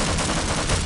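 Continuous video-game gunfire with pistols against an assault rifle, a loud dense burst of rapid overlapping shots filling the whole moment.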